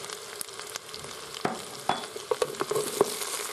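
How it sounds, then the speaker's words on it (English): Onion, garlic, red chilli and ground cumin sauteing in a Morphy Richards saute and soup maker, a soft continuous sizzle with wooden spoon taps and scrapes nearby, no talking. "As you'll notice, I'm using a wooden spoon to mix the ingredients"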